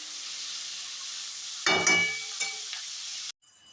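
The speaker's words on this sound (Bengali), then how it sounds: "এবার আমি এটাকে ভালো করে একটুখানি সটে করে নেবো" Capsicum, tomato, onion, garlic and ginger sautéing in a wok: a steady soft sizzle, then a louder burst of crackling and hissing as the vegetables are stirred, a few smaller flare-ups, and an abrupt cut to near silence.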